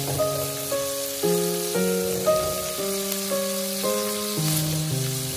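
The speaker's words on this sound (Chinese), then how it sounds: "就这样开中小火慢煎" Fish roe sizzles gently in oil in a pan over medium-low heat, a soft steady frying hiss running beneath louder background music.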